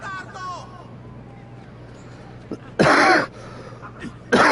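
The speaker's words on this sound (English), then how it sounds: "I apologize for that cough." A close, loud cough in two harsh bursts, the second cut short at the end, from someone playing Assassin's Creed 2. A steady low hum and faint game voices sit beneath it.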